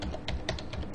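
Keys on a computer keyboard clack in a quick run of about six close, crisp taps within a second, without any voices.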